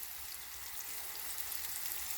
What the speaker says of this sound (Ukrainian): Обережно отак їх перекручуємо, щоб з усіх сторін вона підсмажилася.